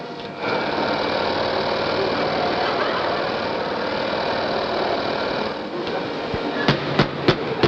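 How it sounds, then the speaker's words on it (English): An electric motor hums steadily somewhere nearby, a continuous buzzing drone with a few sharp knocks near the end, heard close and with no one talking over it. "There's an electric motor running somewhere."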